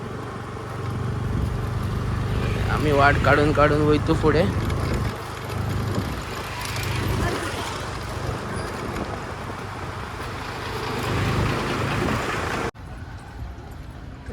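Congested road traffic near a crowded temple festival, with steady engine drone from cars and motorcycles under continuous nearby talk, a rumbling low hum persisting throughout before dropping away near the end.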